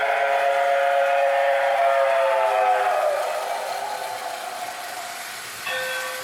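A Lionel Railsound boxcar sounds a toy steam-style train whistle: a sustained, harmonic-rich tone that sags in pitch and fades, followed by a short second whistle blast at the end, heard clearly with no talking.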